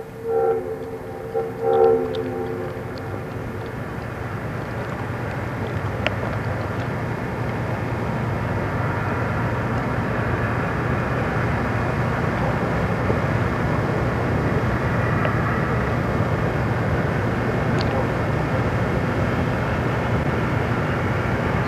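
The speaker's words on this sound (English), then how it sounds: "They're testing the trams." Trams running on a test run without passengers, passing at a distance as a steady rumbling rail noise with a faint horn-like tone early on, no talk.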